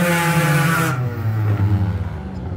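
Car engine revving loudly at a nighttime car takeover meet, a harsh roar that cuts off abruptly and settles into a throbbing, rumbling idle.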